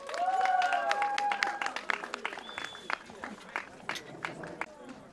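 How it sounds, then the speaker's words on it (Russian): A concert audience applauds a combined brass band, the clapping dense at first and gradually thinning, with a tonal whistle or voice sounding over it early on. "Ваши аплодисменты!"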